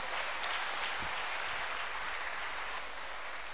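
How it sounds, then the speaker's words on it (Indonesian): Steady applause fills a room at a youth seminar on love, sex and dating, a dense continuous clatter of many hands clapping throughout. "Tepuk tangan buat orang-orang luar biasa ini"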